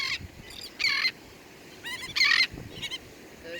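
Birds squawk and honk outdoors in short bursts, several calls spaced irregularly over a few seconds at moderate distance, against a faint background hiss.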